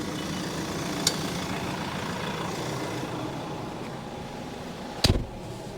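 A farm tractor passes during chickpea planting, its engine giving a steady, loud rumble throughout, with a sharp knock near the start and another near the end.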